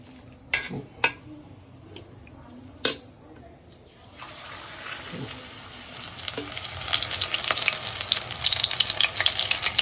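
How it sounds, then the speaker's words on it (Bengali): Pieces stuffed with capsicum and paneer are set one at a time into hot oil in a wok. A few sharp clicks and taps are followed by a hiss that starts suddenly and swells into dense, crackling frying. "তেলটা গরম হলে এর ভিতর আমি একটা একটা করে বসিয়ে ভাজবো"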